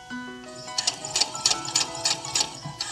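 A sewing machine stitching yarn onto felt, a fast rhythmic run of clicking needle strokes and soft whirring, close and moderately loud, with a short tonal hum at the start and no voices.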